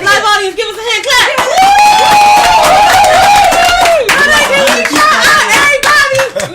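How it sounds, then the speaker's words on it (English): A small live podcast audience claps and whoops loudly and close, with excited high-pitched shouts and screams riding over the hand claps, briefly dipping and then swelling again. "Live audience, give us a hand clap."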